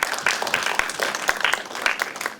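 Audience applause at a live California politics panel discussion, a dense steady wash of many hands clapping that holds for a few seconds with no voices over it.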